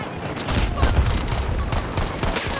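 Dense video game gunfire, including M1 Garand rifle shots, crackles in a loud, continuous barrage of overlapping close shots with faint voices beneath.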